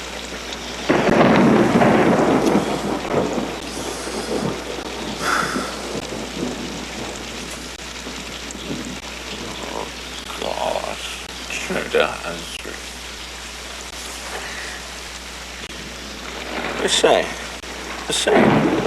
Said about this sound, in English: It's rained on and off every day, which is rotten for exercises, and thunder every bally night